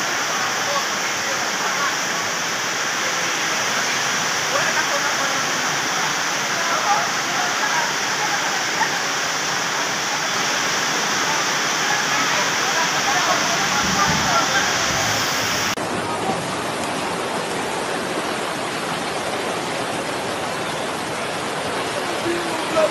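Heavy rain pours steadily onto a tarpaulin roof at home during a fierce downpour, a loud, dense, continuous roar of water with no break and no voices.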